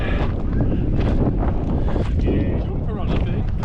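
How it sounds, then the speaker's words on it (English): Strong wind buffets the microphone in a steady, loud roar of rumbling gusts, continuous throughout with no pauses. "it's just wind, isn't it?"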